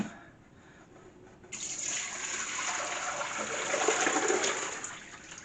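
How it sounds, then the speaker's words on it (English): Cold soaking water drains off blanched carrots into a sink. The clip opens with a quiet stretch, then a sudden steady pouring rush starts, swells slightly and carries on to the end with no talking. "you want to drain them all out. And make sure you give them a good drain."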